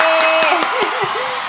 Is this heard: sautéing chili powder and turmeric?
no